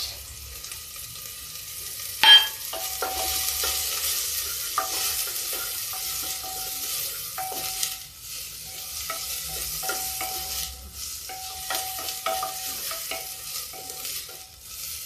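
Chopped onions with bay leaf frying in a pan for a spinach and cauliflower curry, a steady sizzle with repeated scraping stirs of a spoon throughout, close and continuous, no voices.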